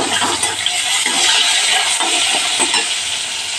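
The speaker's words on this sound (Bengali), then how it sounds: "এবারে দিয়ে দেবো আমি একটা পেঁয়াজটা একটু ভালো করে ভেজে নেব।" Onions sizzle steadily in a hot pan with dried red chilies for a mung bean vegetable curry, a continuous close frying hiss with no voices.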